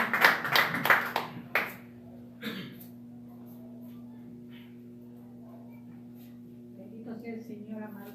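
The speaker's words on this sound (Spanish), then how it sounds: "Dele fuerte su aplauso al Señor" A congregation claps in church, a few loud close claps at the start that fade quickly into a sustained keyboard tone, with faint voices near the end.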